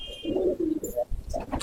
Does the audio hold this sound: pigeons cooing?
yes